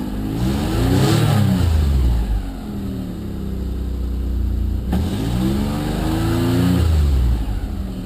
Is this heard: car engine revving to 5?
yes